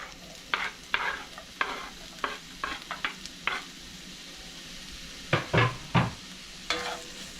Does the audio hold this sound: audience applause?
no